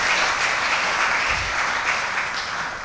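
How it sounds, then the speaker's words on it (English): Graduation ceremony audience gives benefactors a steady round of applause, a dense, even wash of many hands clapping at moderate loudness throughout. "Please give our benefactors a round of applause"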